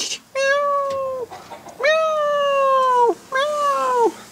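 A cat on a farm with an Ursus C-325 tractor lets out three long, loud, drawn-out yowling meows in close succession, each tone sliding down at its end, with brief gaps between them.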